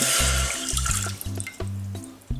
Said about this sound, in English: So to that we're going to add in 1/2 cup of water